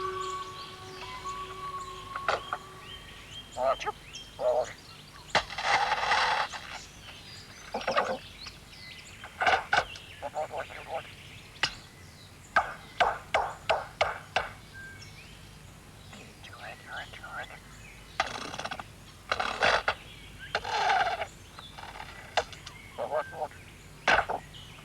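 A lyrebird in the Australian bush mimics a varied run of calls: sharp chirps, whistles and clicking bursts come in irregular clusters, fairly close, separated by short quiet gaps in forest ambience.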